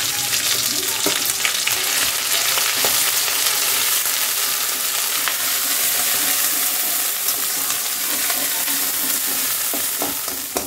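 Mashed pumpkin leaves with fish frying in a little oil in a wok, a steady dense sizzle with occasional stirring scrapes throughout, close and continuous with no talk.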